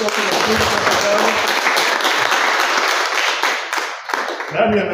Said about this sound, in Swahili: Makofi mazuri, makofi mazuri tafadhali.